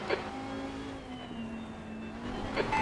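Race car engine in a racing video game at an SRO Esports Asia round, a steady droning motor note holding pitch with slight shifts, moderately loud, with brief higher bursts at start and end.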